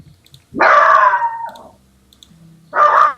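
A Minecraft dog gives two loud, close yowling barks that stretch into howls, separated by a quiet pause with faint game sounds.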